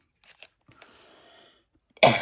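A single sharp cough bursts out loudly near the end, preceded by faint quiet rustling and small mouth noises in an otherwise still room.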